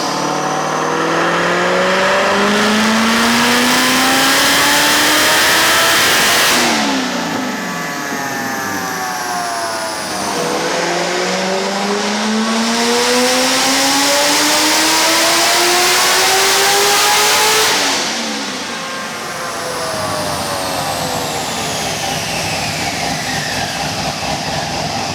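A supercharged LS3 C6 Corvette Grand Sport making about 766 wheel horsepower accelerates hard through several gears, its loud engine wail and supercharger whine rising repeatedly, each climb broken by a brief dip at the shift.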